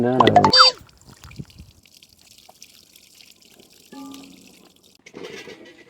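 About a kilogram of basmati rice is washed by pouring water over it: a voice speaks briefly at first, then soft pouring and splashing comes in a couple of moderate bursts against a quiet background.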